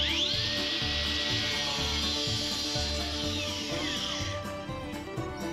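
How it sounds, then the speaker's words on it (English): An angle grinder fitted with a diamond blade cuts a lining sheet for fascia and eaves repair, a loud continuous high whine with a pulsing, rhythmic grind, close up with no talking. "I'm just using a chalk line and an angle grinder with a diamond blade in it to mark this out and get it cut."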